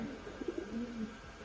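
Black-necked pigeons coo softly and close by, a few low rolling coos in quick succession standing out from faint background noise.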